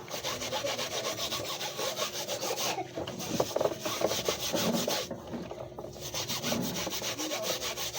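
Steady back-and-forth scrubbing of steel wool against a wooden surface, rhythmic rasping strokes close up with a couple of brief pauses.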